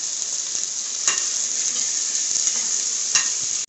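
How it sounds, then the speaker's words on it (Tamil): Shallots fry in oil toward golden with a loud, continuous close sizzle, with two or three brief scrapes of a utensil stirring the pan. "சின்ன வெங்காயம் போட்டு அது நல்லா பொன்னிறமாக வர்ற வரைக்கும் நம்ம வதக்கிடலாம்"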